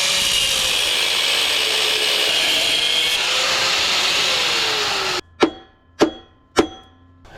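A power saw grinds steadily through seized nuts for several seconds during a clutch replacement on a 2013 Dodge Dart, then stops, followed by three sharp metallic clanks with ringing decay.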